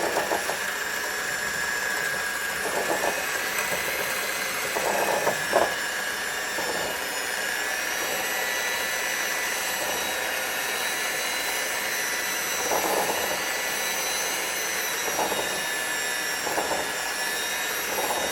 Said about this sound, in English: I prefer to use some kind of automated whisk, some kind of mixer. So I'm going to give that a shot